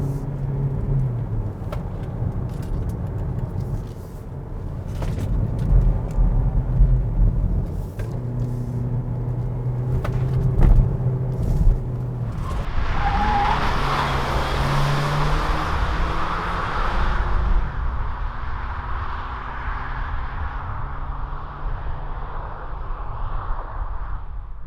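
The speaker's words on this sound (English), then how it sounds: "Niro is actually handling quite nicely, delivering stable and controlled ride" A 2020 Kia Niro Hybrid hatchback taking tight corners, with a steady low road rumble and tyre noise from inside the cabin, a brighter broadband whoosh swelling midway and then settling back.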